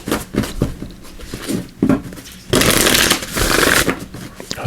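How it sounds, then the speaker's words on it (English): Oracle cards shuffled by hand in a quick, close riffling burst that turns dense and loud near the middle, after some softer handling taps at the start. "So we'll give it a shuffle here."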